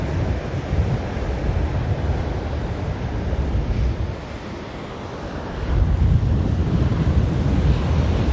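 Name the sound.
ocean surf waves coming in at Waimanalo beach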